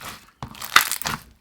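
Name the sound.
crunchy slime being squeezed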